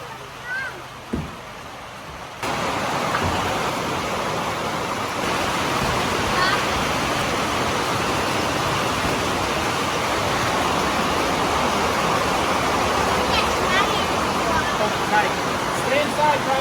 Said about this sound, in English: Basically, as soon as we started working, it starts raining.